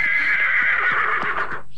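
A horse gives one loud, close whinny that rises and wavers for under two seconds, with faint hoof clops underneath.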